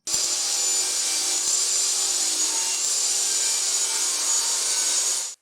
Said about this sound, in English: We're going to head over to the table saw and finish this up.